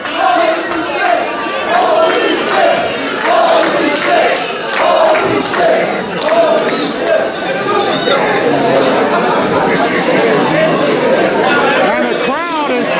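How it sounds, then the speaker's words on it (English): A live wrestling crowd buzzes after a dangerous drop during a ladder match, a loud, continuous swell of overlapping chatter and murmuring that never settles, with scattered shouts rising from the dense arena noise. "the crowd is buzzing about what they saw"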